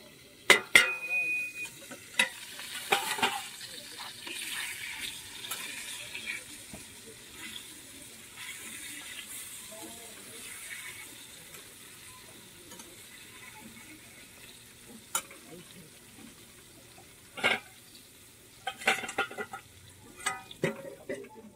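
Eggplant slices frying in a pan in a village home kitchen: a soft, steady sizzle at low volume, broken by a few sharp clinks and scrapes of stirring near the mic.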